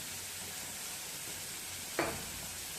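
Tomatoes frying in a pan for North Karnataka Betageri chutney make a steady, faint sizzle throughout, broken once by a short, sharp stirring clack near the end.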